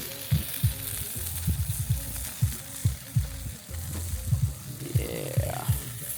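A mustard-fried smash burger sizzles and crackles on a griddle at a cold, rainy camp in Pinecrest, California, with steady close frying noise broken by sharp scraping taps.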